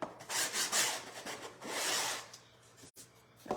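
Sandpaper rubs back and forth along the edges of a wooden bird house in short, raspy strokes, close and fairly quiet, with a brief pause before a final scrape.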